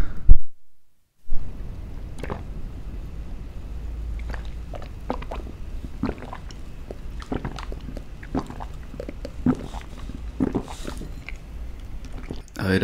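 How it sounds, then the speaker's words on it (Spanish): Close-miked ASMR sipping and swallowing of a dark, beer-like drink: irregular wet sips, gulps and mouth sounds, intimate and fairly loud. "Vamos a darle un trago más."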